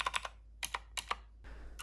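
Keystrokes on a Keychron K2 mechanical keyboard resting on a soft upholstered lounge chair, a few quick muffled clicks in small bursts, close and quiet.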